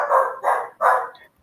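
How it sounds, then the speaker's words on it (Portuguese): A small dog barks three times in quick succession somewhere in a home, fairly loud and clear with short pauses between the yaps and no talking over them. "Desculpe o meu cachorrinho latindo ao fundo."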